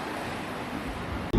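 Surf on a Hilton Head Island beach rolls in as a soft, continuous hiss with wind buffeting the microphone, ending in a sudden low thump near the close.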